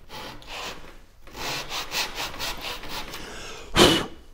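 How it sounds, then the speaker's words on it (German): A hand saw rasps through a Valchromat wooden panel in quick back-and-forth strokes, rhythmic and close, ending with a sharper scraping burst. "nehme die Säge, halte die hier dran"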